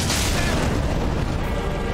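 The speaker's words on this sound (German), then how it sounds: "Das explodiert er einfach," A loud, dense explosive boom from an enemy blowing up in the video game Dark Souls 3, sustained and noisy across the short moment without pause.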